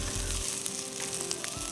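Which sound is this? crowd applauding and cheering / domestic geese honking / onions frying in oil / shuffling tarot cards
onions frying in oil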